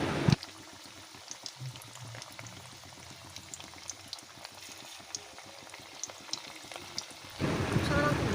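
Chicken pakoras deep frying in moderately hot oil over medium heat, a steady soft bubbling crackle with light clicks throughout, louder splattering near the end.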